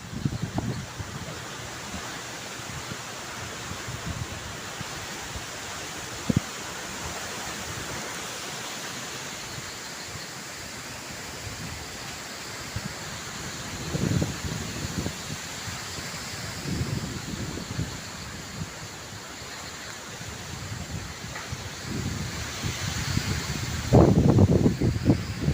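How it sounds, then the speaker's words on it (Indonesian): Strong gusting wind roars steadily through trees around a house during a bird hunt, a broad continuous rush with louder surges and occasional thumps near the microphone. "Dahsyat angin mas bro."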